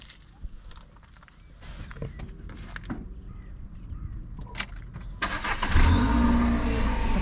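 A Renault Clio 3 RS with a naturally aspirated four-cylinder engine starts up and revs, rising to a loud, steady roar close by after earlier footsteps and handling noises.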